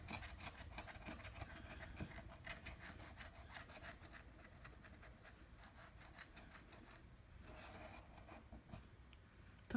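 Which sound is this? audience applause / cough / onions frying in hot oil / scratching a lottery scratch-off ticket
scratching a lottery scratch-off ticket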